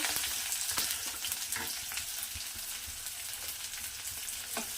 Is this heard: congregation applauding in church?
no